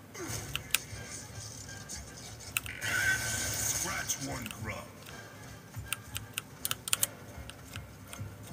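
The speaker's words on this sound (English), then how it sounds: "I'm actually playing mouse and keyboard, but I guess it's a similar noise." Computer keyboard keys and mouse buttons clicking rapidly during PC play of Gears of War Ultimate Edition, sharp irregular taps and short bursts close by, with game sounds and a voice talking underneath.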